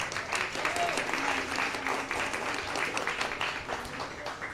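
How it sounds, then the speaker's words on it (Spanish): Audience applauds a panelist at a Spanish-language forest science event, a steady crowd clapping at moderate level throughout with faint murmuring underneath. "Un aplauso para Gislian, por favor"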